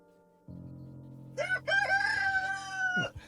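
A rooster crows once in a village in the morning, a loud, drawn-out cock-a-doodle-doo heard close by over a steady low farm hum.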